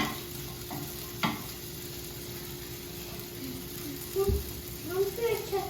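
Sausages sizzling in a frying pan while French toast is made: a low, steady sizzle with a few brief clatters from turning them over.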